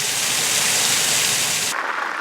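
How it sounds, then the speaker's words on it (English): A small waterfall beside a rest area on a bike trail gives off a loud, dense rush of falling water. The roar is steady and close, then drops sharply to a thinner hiss near the end, with no talking. "it was beside a nice little waterfall"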